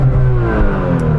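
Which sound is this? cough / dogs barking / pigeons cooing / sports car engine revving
sports car engine revving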